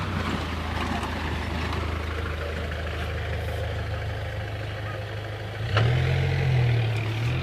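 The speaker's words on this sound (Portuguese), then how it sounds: "o caminhão passou" A truck rumbles steadily along a dark street, its engine drone swelling louder and closer near the end as it passes by.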